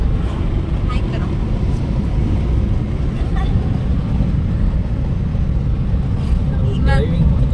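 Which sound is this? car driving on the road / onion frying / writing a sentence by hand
car driving on the road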